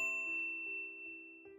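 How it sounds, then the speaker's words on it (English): A bright notification bell dings alone, ringing clearly and sustaining with a long, slowly fading tone, with a couple of faint repeated chimes beneath it. "ring the bell to get notified about our latest videos"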